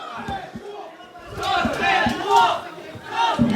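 Wrestling crowd at a live match roaring and shouting, surging waves of cheers that swell louder toward the end, with a close voice over the din.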